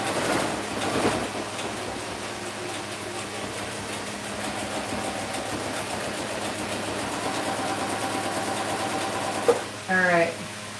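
A sewing machine runs steadily while stitching seams, a continuous whirring motor hum with rapid needle chatter, ending with a short burst of other noise.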